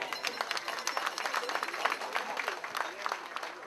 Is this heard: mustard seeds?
no